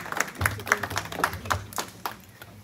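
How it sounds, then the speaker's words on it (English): A few people clap at a family reception, giving scattered, uneven claps that are close and fairly quiet, with faint voices in the background. "Oh, clap, oh, clap."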